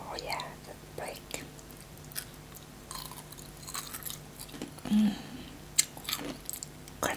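Soft, close biting and crunching of Japanese kohakutou jelly candy with chewing noises, several crisp crunches scattered among quiet whispered speech.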